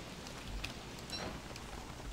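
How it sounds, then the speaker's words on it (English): Rain falls steadily in the survival game Don't Starve: Reign of Giants, a soft continuous patter with a few sharper drops, faint and unbroken with no voices. "With the rain like this, it's going to be a little bit awkward anyway."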